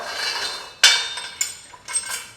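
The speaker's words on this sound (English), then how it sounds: "So I'm going to take the quick bolts off" Metal quick bolts being removed from an EVO ID belt squat machine, a few sharp metallic clanks and clinks spaced across a couple of seconds, close by over a faint background hiss, with no talking.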